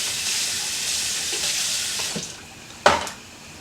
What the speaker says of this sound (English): We're just going to rinse you off.